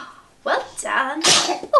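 A baby's sneeze bursts out mid-clip amid an adult's cheerful talk during a playful game of catch at home, short and sharp against the surrounding voice.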